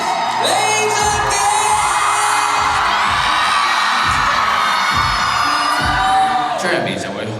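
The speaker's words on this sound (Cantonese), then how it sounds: "請以熱烈嘅尖叫聲同掌聲歡迎" A birthday fan party crowd cheers and screams as a performer is welcomed on stage, a loud continuous roar with whoops and yells, punctuated by repeated heavy bass thumps from the stage music.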